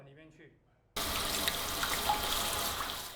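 A urinal siphon sends a sudden burst of water into the sewage pipe, starting abruptly after a quiet moment and then holding as a close, steady rushing gush.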